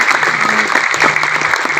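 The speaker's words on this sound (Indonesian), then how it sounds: "Tepuk tangan lu untuk Pak Prabowo." Brief burst of crowd applause at an outdoor village farmers' gathering, many hands clapping together loudly and close by, steady throughout.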